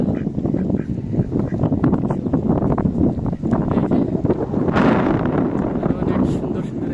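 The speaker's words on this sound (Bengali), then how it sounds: "পাতি হাঁস আছে। হাঁসের 3টা বাচ্চা" Domestic ducks quack intermittently amid wind and outdoor noise, with people talking nearby.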